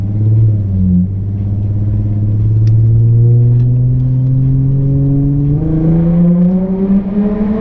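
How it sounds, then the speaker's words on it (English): Car engine pulling hard under acceleration with the windows down, a loud steady rumble rising in pitch through the gears over several seconds, heard from inside the cabin with no talking. "I guess I'll do a pull with the windows down."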